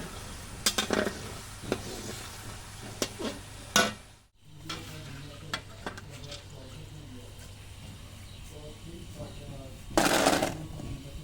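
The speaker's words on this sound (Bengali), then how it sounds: "এবার ভেজে নেব বাদাম।" Peanuts are fried and stirred in a pan, giving a soft sizzle with clinks and scrapes of a utensil. Occasional louder stirring bursts come through, with talk at times.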